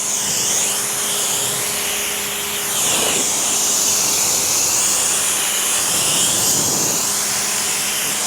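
A pressure-washer rinse sprays water over a car's paint after a hand wash, making a loud, steady hiss that swells and eases as the spray sweeps across the body.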